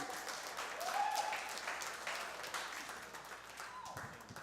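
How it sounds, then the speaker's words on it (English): An audience at Gotham Comedy Club applauds a comic taking the stage, a steady patter of clapping that swells and then thins out, with a faint voice briefly over it. "Ladies and gentlemen, give it for Mike Schneider."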